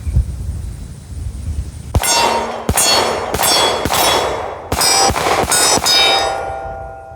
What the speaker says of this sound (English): So I'm gonna dump these 8 rounds on the steel plates.